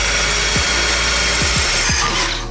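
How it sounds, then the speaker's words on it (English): A power drill runs loudly and continuously, boring holes into a car's metal subframe, with a few short pitch dips as the bit bites into hard material. "I'm literally gonna drill holes into the subframe."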